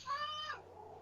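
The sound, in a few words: pet cat named Pumpkin meowing in the background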